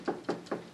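Three evenly spaced knocks rap on a door, moderately close and fairly soft, with quiet room tone between them.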